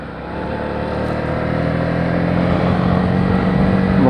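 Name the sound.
Honda CB125R motorcycle engine on road ride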